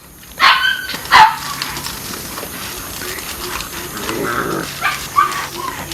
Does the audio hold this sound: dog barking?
yes